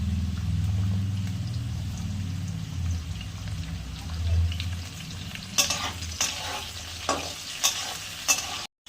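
Chopped ginger and green chilli frying in a moong dal tadka give a low, steady sizzle, then a spoon stirs with several crisp scraping strokes near the end.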